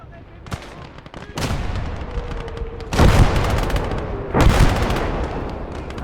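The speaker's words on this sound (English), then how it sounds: "That's our artillery." Artillery fire in a World War II video game battle set during the fall of France: several heavy booming blasts, the loudest near 3 and 4.5 seconds, over continuous rumbling gunfire.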